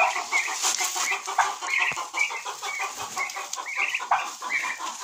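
Farmyard poultry, including a turkey, a duck and a chick, make busy overlapping clucks, chirps and squawks, continuous and fairly close, with no one speaking.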